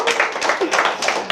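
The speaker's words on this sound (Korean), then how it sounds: "박수 한번 하십시다" An audience at a Korean speech lecture claps, brief bursts of applause rising and falling over about a second and a half.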